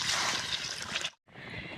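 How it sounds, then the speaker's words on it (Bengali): Water is poured into a cooking pot of potatoes for a greens and pumpkin curry, a steady close splashing rush that stops briefly, then resumes. "জল দিয়ে দিচ্ছি।"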